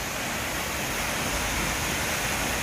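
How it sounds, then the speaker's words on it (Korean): The upper Düden waterfall in Antalya pours steadily as a loud, unbroken roar of rushing water, filling the whole moment without any voices. "아까 그 같은 폭포를 지금 위에서 보는 거예요."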